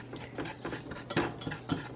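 A spoon scrapes and clinks as a crumbly flour and spice mixture is stirred in a pan for enchilada sauce, giving quiet, irregular taps and scrapes without speech.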